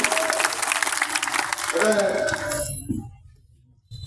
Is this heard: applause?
yes